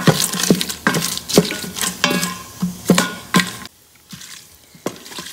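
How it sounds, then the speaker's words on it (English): Whole garam masala spices sizzle and crackle in hot ghee inside an Instant Pot liner, with repeated stirring scrapes at a steady rhythm, loud and close, with no talking. "Now add whole garam masala and saute them for a minute."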